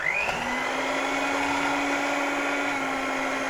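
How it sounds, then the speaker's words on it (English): An electric hand beater whisking chorizo fat into butter, a steady high whirring motor hum that spins up at the start and then holds a constant drone, close and alone. "So with your hand beater, hand whisk, in there, turn the power on"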